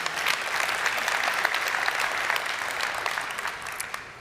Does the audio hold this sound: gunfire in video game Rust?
no